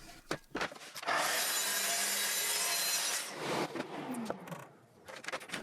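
A saw trims wood clamped on a jig on a workbench, making one loud, continuous rasping cut of about two seconds, with a clack and a quieter scrape just before and after.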